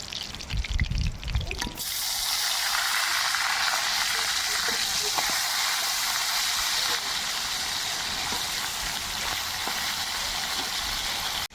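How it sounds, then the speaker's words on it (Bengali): Fish frying in hot oil in a home kitchen, a loud steady sizzle that starts abruptly after a brief thump and holds for about ten seconds with no talk over it. "আর বাকি মাছগুলো ভেজে নেব"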